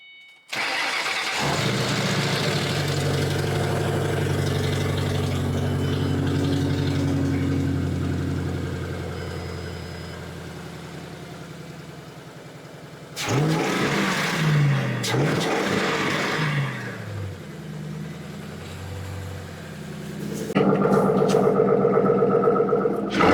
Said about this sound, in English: All right, we're gonna fire it up for you guys so you guys see how well it runs.